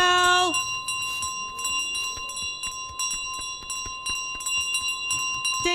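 A bell rings repeatedly in Untitled Goose Game, bright metallic dings struck in a steady series over a background of game ambience, loud and close throughout.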